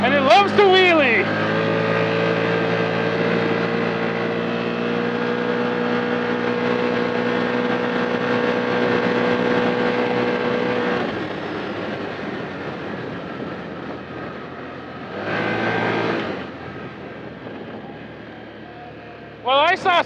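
A 2025 Can-Am Outlander 1000R XT-P ATV launches at full throttle, its engine note rising steadily and loud for about ten seconds, then a shift or lift, with a second surge of power near the end and a voice speaking briefly at the start.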